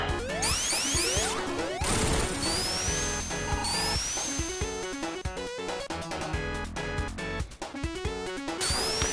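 Hammer smashes and whacks from a Sonic game, layered over loud, busy game music with swooshing effects, repeated impacts throughout.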